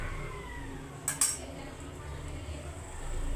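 A metal spatula scrapes and clinks against a pot of Gobindobhog rice cooking into pulao, two quick bright knocks standing out over a low, steady hum of gas flame.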